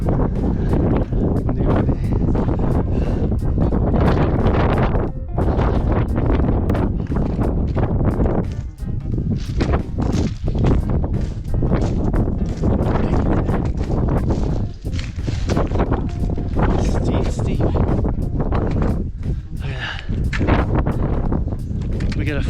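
Strong wind on a mountain summit above 13,000 feet on Mt. Sherman, roaring in loud, constant gusts that buffet the microphone, close and overwhelming, with footsteps and voices underneath.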